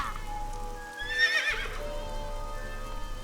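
A merry-go-round horse in the video game AI: The Somnium Files gives a short whinnying neigh, a single burst heard alone over a faint ambient game background.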